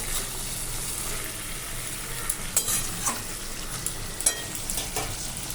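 Spinach stems stirred in fish oil in a pan, a steady low sizzle with scraping stir strokes and a few sharper clinks from the spoon, close and continuous without talk.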